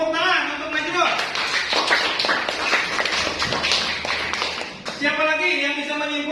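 A classroom group gives a short burst of brisk, close clapping for a student named Najrul. Voices talk just before and right after the applause.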